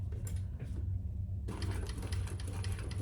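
Leather crossbody bag backstitched on a sewing machine near a D-ring, the motor whirring in a short run, pausing briefly, then resuming a steady buzzing stitch through the rest.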